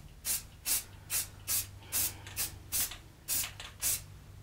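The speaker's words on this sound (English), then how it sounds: "you want to have a real light touch with this spray can" A spray paint can hisses in ten short, even bursts at a steady rhythm, each quick light puff close and clear over a low background hum, used for freehand carving of half-inch letters on pressure-treated lumber.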